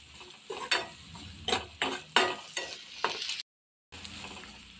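Onions fry in a pan as a spoon stirs them with turmeric, giving a steady sizzle broken by a run of sharp scraping strokes, then a brief silence and more sizzling.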